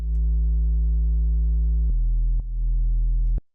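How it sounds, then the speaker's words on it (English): A clean, deep sine bass from Ableton's Operator synthesizer holds steady notes, stepping down in pitch twice before cutting off abruptly; smooth and loud with no other sounds. "It's just playing a very simple sine wave."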